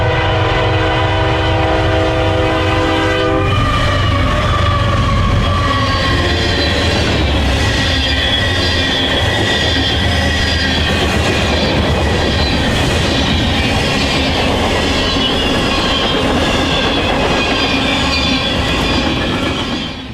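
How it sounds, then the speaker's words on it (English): A Norfolk Southern eastbound manifest freight led by two Union Pacific GE locomotives rolls past loudly on the Chicago Line, its horn sounding at the start before a sustained roar of wagons and rhythmic wheel clatter continues close by with no talk. "we caught the eastbound Manifest Train 14A with two Union Pacific GE locomotives as the lead power"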